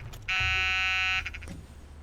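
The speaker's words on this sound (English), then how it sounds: "Make sure you have your landing gear switched down or you'll have that alarm" Landing gear warning buzzer in a Beechcraft Model 18 cockpit in Microsoft Flight Simulator 2020, sounding as a steady, loud electronic tone for about a second over low cockpit hum, then stopping abruptly.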